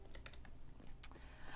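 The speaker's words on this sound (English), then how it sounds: "so I'm using keyboard and mouse right now." Soft, quiet keystrokes on a PC keyboard during a game session, a scattered patter of clicks heard faintly and close, with no one talking.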